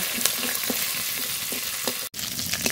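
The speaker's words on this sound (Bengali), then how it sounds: "রসুনটা তেলের উপরে একটু ভেজে নিয়েছি।" Garlic fries in hot oil in a village kitchen, giving a continuous close sizzle with scattered crackles and one brief break in the sound.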